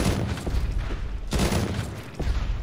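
A newly acquired gun fires in Jagged Alliance 3, three loud, sharp bursts of gunfire spaced about a second apart, each with a booming tail, no voices.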